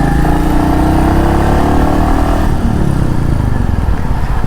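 A Royal Enfield Meteor cruiser motorcycle engine runs loud and close, a steady low throb that shifts in pitch partway through, as if easing off the throttle, with no talk over it.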